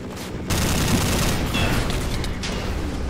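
Sniper rifle fire in a modded Minecraft game, a dense loud burst of gunshots and crackling battle noise running steadily throughout, with no talk over it.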